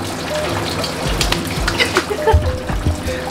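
Water pulsing and splashing from a repaired water device, a steady close gush with rhythmic surges and small splashes, with a faint voice briefly under it.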